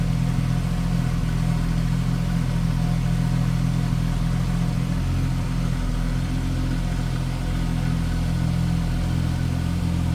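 A 1973 Triumph TR6 with a 2.5 liter inline six and three Weber two-barrel carburetors idles steadily, a loud, continuous low rumble with no voices.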